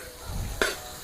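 Tomatoes stirred into a sizzling masala in a pan for masala macaroni, a brief scrape and sizzle burst standing out over a low, steady frying hiss.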